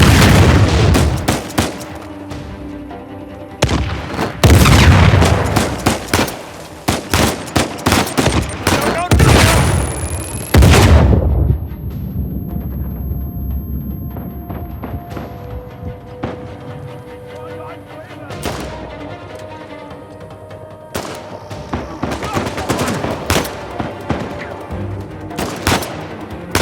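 Heavy gunfire from Uncharted 4 comes in loud repeated bursts of automatic shots and booming blasts, separated by quieter stretches, with shouting voices mixed among the volleys.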